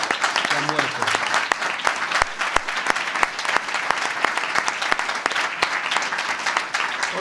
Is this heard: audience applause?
yes